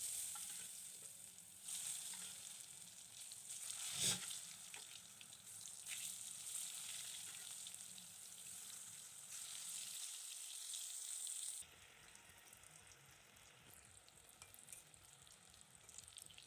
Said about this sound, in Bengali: আর আমি প্রথমে বেগুনগুলো ভেজে নেব।